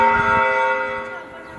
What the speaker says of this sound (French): les cloches du Saint-Sépulcre ont sonné